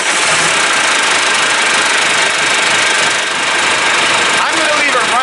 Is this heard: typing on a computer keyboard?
no